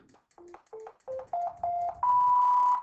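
Electronic keyboard notes played one after another, seven clean sine-like tones stepping upward in pitch, each held slightly longer than the last, the final one sustained, fairly quiet and with no talking.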